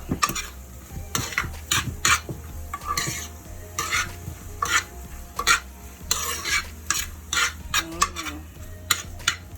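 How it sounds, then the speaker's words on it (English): Butter and onions sizzle in a pan as they are stirred, with repeated utensil scrapes and clinks against the cookware over a steady frying hiss, close and fairly busy throughout. "So now that it's sizzling away, let's mix it up."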